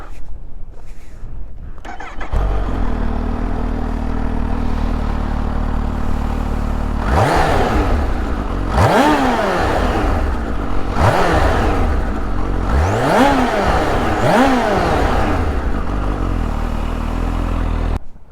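A supercharged Kawasaki H2 SX motorcycle engine with stock exhaust can starts and idles, then revs sharply several times, each rev rising and falling quickly before dropping back to a steady idle, loud and close.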